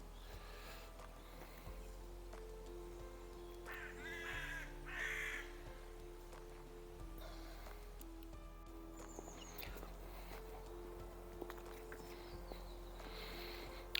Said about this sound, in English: The crows are out in full force.